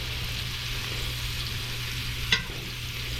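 Wahoo fillets baste in butter in a hot pan, a steady close sizzle with a low hum underneath and a single sharp clink of a utensil near the end, no talking.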